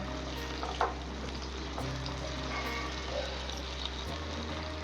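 Ivy gourd curry cooking in a pan over a medium flame gives a steady, moderate sizzle throughout, with occasional soft scrapes and knocks of a spoon stirring it; no voices.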